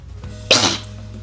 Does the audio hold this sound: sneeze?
yes